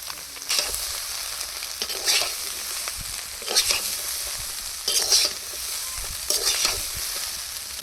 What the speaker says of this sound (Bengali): এবার ভাতগুলো সব ঢেলে দেবো দিয়ে মিক্স করে নামিয়ে নেব